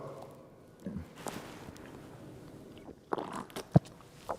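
Chewing lumpy pre-workout powder, with moist crunches and wet bites coming close and irregular, quiet stretches between a few sharper clicks and squishes.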